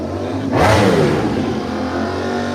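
A motorcycle engine revs loudly close by, a sharp surge of throttle that holds as a steady roar and then settles into a rumbling drone.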